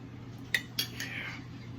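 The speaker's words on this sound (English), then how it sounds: "I'm gonna put a little bit of bacon grease in here. Stir it up just a little bit." A utensil stirring food with bacon grease in a pot, heard as two quick metallic clinks against the side and a short scrape, fairly quiet over a low background hum.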